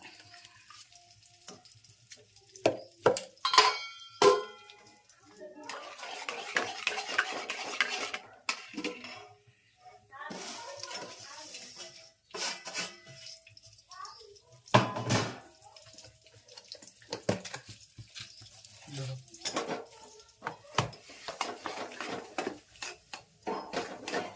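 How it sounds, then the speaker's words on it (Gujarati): A spoon scrapes and clanks around a pot while ghee and jaggery are stirred together for ladoo, giving irregular metallic knocks and bursts of soft sizzling close by, with no voices. "ઘી ને ગોળ ને બધું મિક્સન કરતું જવાનું હોય એમાં."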